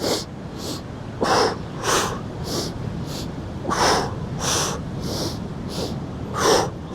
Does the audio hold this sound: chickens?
no